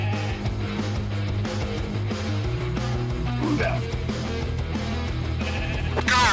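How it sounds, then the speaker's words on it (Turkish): Sheep bleating in the video game LostMiner, a short wavering call standing out near the end over busy, continuous game music and effects. "Aa koyun var."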